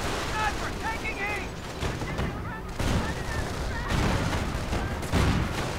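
Sniper rifle fire rings out in a real-time war strategy game, sharp reports mixed with bursts of battle gunfire and booms in a busy, continuous soundscape, with a voice talking over it.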